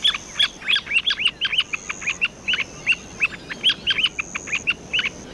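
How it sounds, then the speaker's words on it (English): Plover giving repeated short, bright chirping calls in quick bursts with brief pauses, fairly close and clear over a quiet background hiss. "Here's an example of the bird's chirping call."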